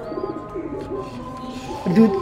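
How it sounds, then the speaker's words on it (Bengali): A pair of racing pigeons coos in a home loft, low warbling coos running steadily under background noise with a stronger coo near the end. "তো এখানে আছে একজোড়া রেসার কবুতর।"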